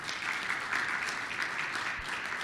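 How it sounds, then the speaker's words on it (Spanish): Audience applause for a guest at a fruit trade conference on plant cankers, a faint, steady patter of clapping from a small crowd heard at a distance, with no talk over it. "A ver si le damos un aplauso entonces a don Gregory"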